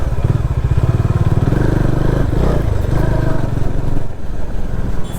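A motorcycle ridden in a higher gear on a rough trail-like off-road track, its engine droning loud and steady throughout, with close wind buffeting and rattling over the top.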